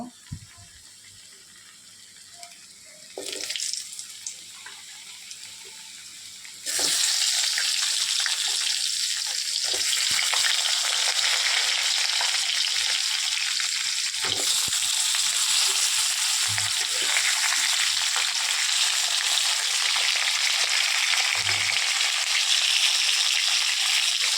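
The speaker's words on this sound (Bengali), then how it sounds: "পরিমাণ মতো তেল দিয়ে দিয়েছি, আলুগুলো ভেজে নেব।" Potatoes frying in oil in a home kitchen pan, a loud, broad, steady sizzle that jumps up abruptly after a quieter start and holds, with occasional scrape and stir knocks.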